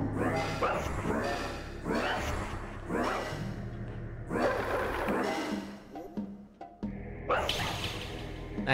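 A dog creature in the video game Lunacid, with repeated bark-like yips and whimpers in bursts alongside swooshing combat sounds, fairly loud and close.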